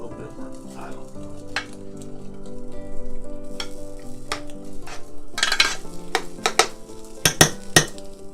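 Apples fry and sizzle in an iron skillet while being stirred constantly over high heat, a steady crackle broken by sharp scraping and clinking of a utensil against the pan, growing busier toward the end.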